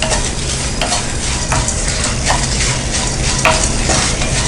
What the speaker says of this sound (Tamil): இப்போ வரமிளகாய் ஆட் பண்ணிக்கலாம்.